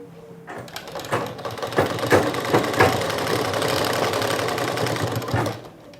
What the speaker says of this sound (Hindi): पजामा को ऊपर में रख के हम इसको चारों तरफ सिलाई मार लेते हैं।